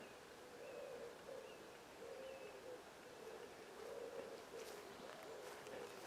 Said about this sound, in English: Can you hear that bird calling in the distance?